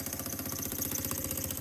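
Empire B30 toy steam engine running steadily, a fast even chuffing and mechanical clatter with constant loudness, close up and alone with no talking.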